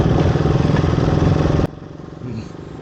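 A loud motorcycle engine chugs close by at a tea estate factory in Chikmagalur, Karnataka, then cuts off abruptly, leaving a quieter murmur of background noise.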